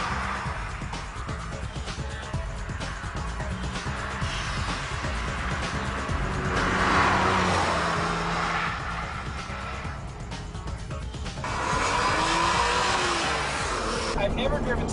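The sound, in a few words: Porsche 911 996 driving, engine revving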